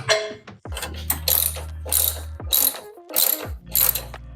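Ratchet wrench clicking in quick repeated bursts on an E14 E-Torx socket bolt during a JB4 tuner install on a MKV A90 Supra, close and loud with short pauses between strokes.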